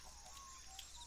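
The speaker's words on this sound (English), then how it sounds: "That's a chicken." A chicken clucks in the Minecraft modpack Craftoria video game, a few short, fairly faint clucks over a quiet ambient game background.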